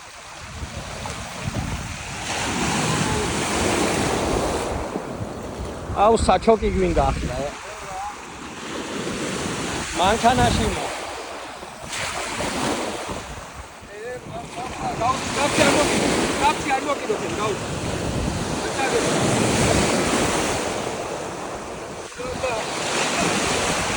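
Surf rolls and crashes in repeated surges with gusty wind noise, while people talk intermittently nearby.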